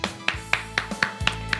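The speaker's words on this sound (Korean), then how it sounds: "우리 하나님께 영광의 박수 드리겠습니다." A church congregation at a Wednesday worship service claps in a slow, steady rhythm, seven distinct claps spaced evenly, close and clear with no talk.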